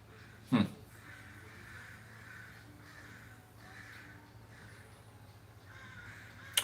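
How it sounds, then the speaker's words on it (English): Crows caw in the distance, a steady low hum underneath and a sharp louder call near the start. "You hearing birds out there?"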